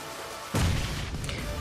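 A bomb goes off in the mobile battle royale game BGMI: a quiet lull breaks into a sudden deep boom that rumbles and fades.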